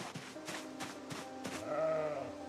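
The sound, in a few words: sheep bleating in a video game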